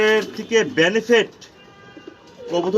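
Pigeons in a loft housing about two hundred pairs coo in several close, rounded bursts, with a short quieter pause between the calls.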